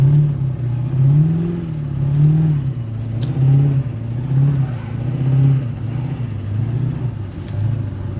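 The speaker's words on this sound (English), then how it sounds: "Blows up transmission." Pontiac Trans Am engine droning and revving in waves at steady mid pitch, close and loud, as its transmission fails, with rising and falling surges throughout and no talk.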